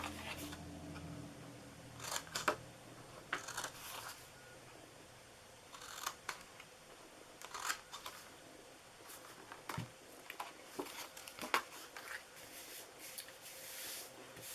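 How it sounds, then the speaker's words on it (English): Layering squares dies cutting a square out of card for a shadow box treat box, a quiet series of small clicks, taps and paper rustles, close and faint. "We're also going to use our layering squares to cut a square out of the front of this piece."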